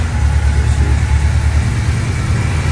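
A GM Performance crate 350 V8 runs steadily just after a cold start, a loud, continuous low rumbling idle close by with no talking over it.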